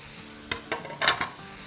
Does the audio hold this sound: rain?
no